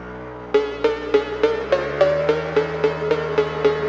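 Motorcycle fitted with bolt-on cams and an Aracer ECU revving in a steady series of about a dozen sharp, evenly spaced throttle blips over a constant idle, close and clear with no talk.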